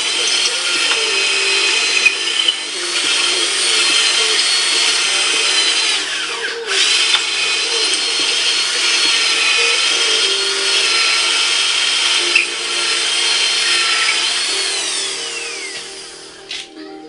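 A power drill bores into thin, very dry wood, a loud, close, steady whine that runs almost without a break, dipping briefly a few times as the bit labours.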